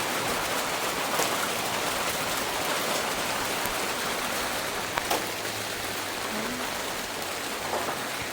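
Steady first summer rain falls continuously, a dense even hiss of drops on surfaces with a few louder nearby drips, no voices.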